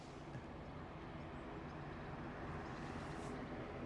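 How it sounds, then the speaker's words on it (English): A helicopter moves around Aberdeen airport, heard as a steady, distant mechanical drone with a broad low rumble that holds at a constant level throughout. "that sounds like a chopper moving"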